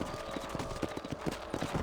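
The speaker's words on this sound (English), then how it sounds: "Let's get back on the horses and see what else is going on." Horse hooves clip-clopping at a steady trot in a western video game, a quick rhythmic run of close, moderately loud hoofbeats on their own.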